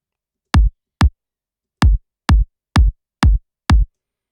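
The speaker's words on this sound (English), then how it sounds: "It's a big rim kick, and I've just shortened the tail" Seven short, punchy rim kick drum hits with a shortened tail, spaced unevenly over a few seconds and heard alone with silence between them.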